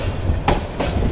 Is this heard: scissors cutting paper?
no